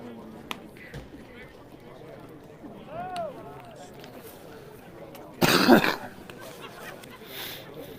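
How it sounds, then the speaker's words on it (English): A single burst of harsh coughing breaks through quiet background murmur and faint crowd noise at a baseball scrimmage, loud and close. "Sorry for the coughing here as well"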